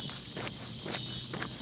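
A steady high-pitched insect drone hums continuously, with soft pulsing swells, like cicadas buzzing on a quiet evening.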